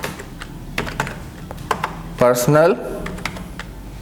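Computer keyboard typing in MS Word 2016 while a resume is drafted: scattered, light key clicks spread through the clip, with a voice speaking briefly in the middle.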